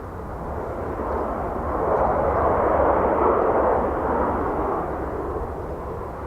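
Ryanair jet taking off from runway 28 right at Dublin Airport, a steady broad engine roar that swells toward the middle and slowly fades, heard from a distance with no talk.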